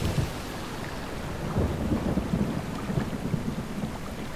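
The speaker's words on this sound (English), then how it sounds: "It's still raining and stuff." Rain and thunder in the Kingdom video game: a continuous hiss of rainfall with low rumbling thunder swelling underneath, moderately loud and unbroken, with no voices.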